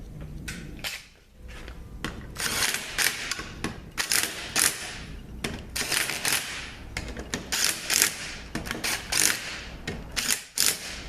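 Bolts on a 42RE transmission being tightened down during a rebuild, a close series of sharp mechanical clicks and ratcheting bursts in irregular clusters, with no speech.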